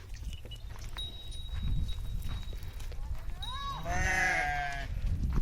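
A flock of sheep bleats outdoors beside a lake at a shepherd's grazing camp, several overlapping calls rising near the end over a steady background, with a faint hoof-like clatter and outdoor noise throughout.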